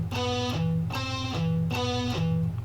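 Guitar strings heavily over-muted by the palm give three short, dull, choked plucked notes. Each repeating figure is clipped off quickly, close and fairly quiet, with no talking.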